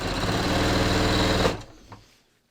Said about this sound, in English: So basically I'm just going to understitch now